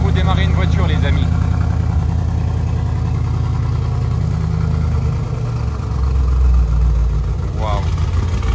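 A luxury supercar engine at the Mansory showroom in Dubai rumbles and idles loudly from start to finish, with voices talking over it throughout.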